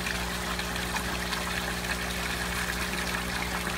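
A garden hose runs water into a goldfish pond, giving a steady, even splashing rush with a faint low hum beneath, continuous and close, with no voices.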